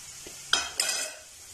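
Vegetables with black pepper and red chili powder are stirred in a pan for an egg and chicken roll filling, giving two quick scraping strokes over a soft, faint sizzle.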